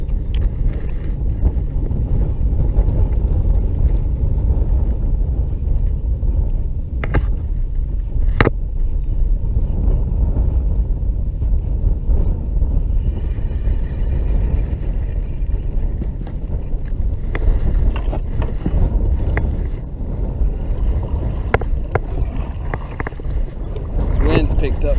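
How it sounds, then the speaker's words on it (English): Wind gusts across a lake during kayak fishing, buffeting the microphone with a continuous low rumble and occasional knocks on the kayak; voices talk faintly in the background. "Wind's picked up pretty bad."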